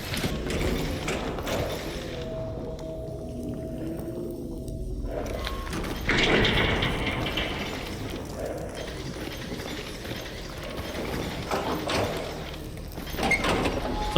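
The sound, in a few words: door opening and closing in video game Stalker Anthology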